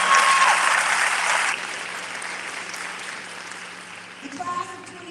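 Applause at an 8th-grade commencement for the graduating class of 2021, loud at first and then fading away, with a voice speaking near the end.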